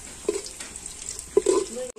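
Onions stirred while frying in oil in a pan for kochur mukhi dal, soft scraping strokes and a faint sizzle, with two louder scrapes of the utensil against the pan, up close.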